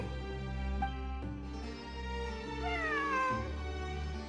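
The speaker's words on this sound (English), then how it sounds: "It really is a cat." A cat in the video game Genshin Impact meows several times over low background music, the calls drawn out and wavering, fairly close and clear, with no talking.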